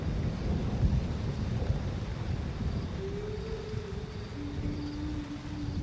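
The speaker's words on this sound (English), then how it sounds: "it starts to rain in Undutu" Rain and thunder sweep over dusty savannah grassland in Undutu: a steady, heavy wash of rainfall with deep rolling rumbles underneath, and a faint thin tone drifting in partway through.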